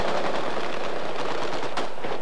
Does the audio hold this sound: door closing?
no